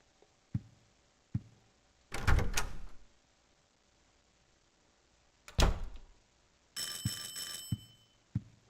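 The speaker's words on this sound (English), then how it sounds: "That's our doorbell." In the Silent Hill 4 apartment, scattered dull knocks and two heavy thuds lead to a brief buzzing, ringing doorbell tone near the end, followed by a few more soft clicks in an otherwise quiet room.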